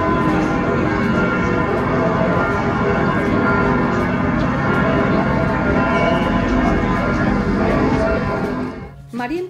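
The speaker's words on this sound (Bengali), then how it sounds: "চার্চের ঘন্টাটা শুনতে পাচ্ছেন নিশ্চয়ই।" A church bell in central Munich ringing steadily and loudly across a busy city square, layered over street ambience and a voice talking.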